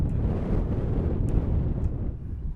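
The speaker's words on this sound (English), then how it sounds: "The wind is blowing out here at the ballpark." Wind buffets the microphone at an outdoor ballpark during a junior varsity softball game, a continuous low rumbling roar with gusty surges and no voices.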